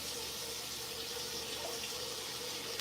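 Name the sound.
tap water rinsing rice in a sink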